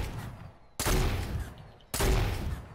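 Gunfire in Fortnite Battle Royale: two loud, sharp shotgun-like blasts spaced about a second apart, each with a short booming tail over quieter game ambience, no voices.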